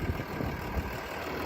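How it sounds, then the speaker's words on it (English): A 2018 Ford F-150 Powerstroke diesel idling smoothly up close, a steady low engine rumble with a faint repetitive ticking from the DEF pump, no talking. "The tick you hear is the DEF"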